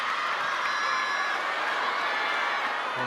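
Crowd cheering at an Asian Cup table tennis match, a dense, steady roar of voices and clapping filling the arena throughout.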